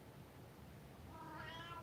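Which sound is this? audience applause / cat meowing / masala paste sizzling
cat meowing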